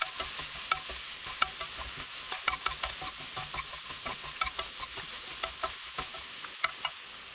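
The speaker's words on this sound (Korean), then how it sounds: "고추, 참기름 1스푼 넣어 볶아주세요. 골고루 섞일 정도로만 짧게 볶아요." Dried clam meat stir-fried briefly with chili and a spoonful of sesame oil, with a low sizzle under a quick run of light, rhythmic spatula taps and clicks against the pan.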